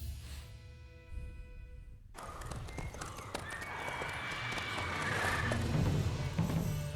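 Roach the horse galloping in the video game Witcher 3: a steady, muffled hoof rhythm under game ambience and music, starting after a short tonal passage and growing louder toward the end.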